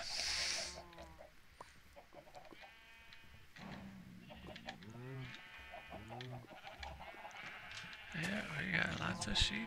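Sheep bleat several times at close range amid clucking chickens, with a person talking intermittently in the background.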